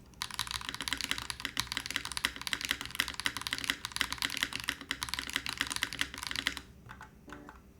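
Fast, steady typing clatters on a Razer BlackWidow mechanical keyboard with polyfill removed, dense close-up key strikes for several seconds before stopping abruptly with a few final clicks.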